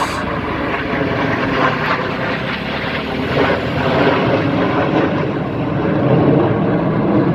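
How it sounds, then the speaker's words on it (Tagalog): Military fighter jets of the Air Force fly overhead near a river, producing a steady, loud, broadband roar that holds for the whole stretch without letting up. "Ala, may mga jet fighter oh."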